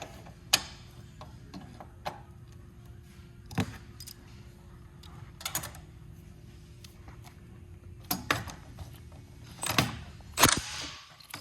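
An Atlas Trap Company skeet base mount is tightened during installation, giving scattered sharp metallic clicks, ratcheting and knocks spread irregularly over several seconds against a quiet background, close by and without talk.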